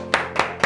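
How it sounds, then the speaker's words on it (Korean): Claps ring out from a church congregation, three sharp, evenly spaced hand claps in quick succession. "박수로 하나님께."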